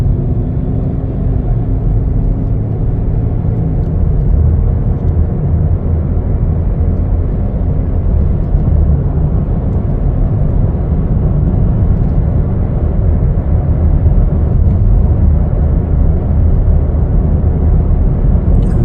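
A 2020 Chevrolet Blazer 2LT on a test drive, heard from inside as a steady, loud low road and engine rumble that holds constant throughout, with no talk.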